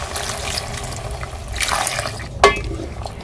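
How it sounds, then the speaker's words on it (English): Water poured into a pot of rice and egg stew with tomatoes, a soft running splash for a few seconds ending in a sharp, brief slosh near the end. "Now I'm going to go in with some water."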